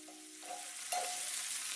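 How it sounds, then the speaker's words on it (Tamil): Chopped tomato, garlic and shallots sauté in a pan for a tamarind kuzhambu, a soft steady sizzle with light scraping stir strokes, close and fairly quiet, with no talking. "இப்போ ஒரு சின்ன தக்காளி பழம் அதையும் பொடியாக நறுக்கி இதோட சேர்த்து வதக்கிக்க போகிறேன்."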